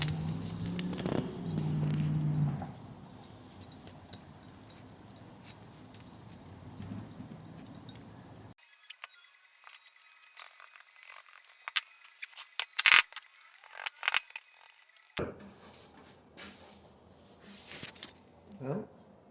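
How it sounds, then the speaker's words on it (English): Molten aluminum freezing in a crucible after casting a metal lemon gives off faint, scattered crackles and ticks, close by and irregular, over quiet background noise. "can you hear the aluminum freezing in the crucible?"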